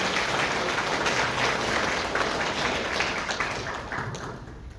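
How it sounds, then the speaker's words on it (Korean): An audience in a conference hall at Gumi, South Korea, welcoming a speaker at a political party launch event claps steadily in a sustained round of applause, which gradually thins and fades toward the end. "강위원 더민주 전국혁신회의 사무총장님을 큰 박수로 맞이해 주시면 감사하겠습니다."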